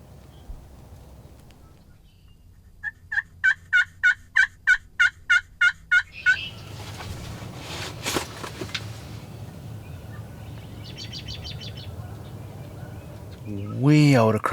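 Wild turkeys are out in a field during a late-season hunt. A rapid string of about ten sharp calling notes comes first, and a louder gobbling burst follows near the end over quiet outdoor ambience.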